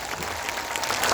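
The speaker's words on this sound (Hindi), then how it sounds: "तो बजाइए जोर से ताली।" A large crowd at the Jan Suraaj founding convention in Patna claps steadily and loudly, a dense wash of applause with no clear speech.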